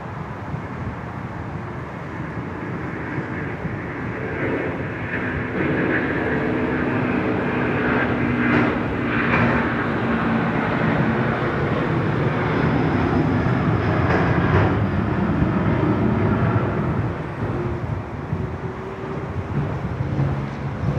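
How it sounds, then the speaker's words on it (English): An Asiana airliner makes a long takeoff roll at Sydney Airport, a steady broadband jet engine roar that stays loud and sustained throughout, with no talk over it. "Wow, that was a much longer takeoff roll there from Asiana"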